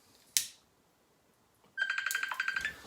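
A phone goes off with a sharp click followed after a pause by a bright, rapidly pulsing electronic ringtone trill, close and fairly loud in a quiet room.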